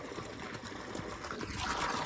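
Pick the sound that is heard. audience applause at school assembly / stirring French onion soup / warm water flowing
warm water flowing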